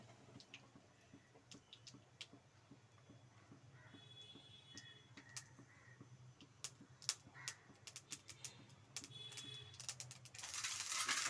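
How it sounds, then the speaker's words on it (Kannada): Mustard seeds spluttering in hot oil for vegetable bath: sparse sharp pops and crackles at close range, growing busier toward the end over a faint low background hum. "ಈ ಥರ ಸಾಸಿವೆ ಚಟಪಟ ಅಂದಮೇಲೆ"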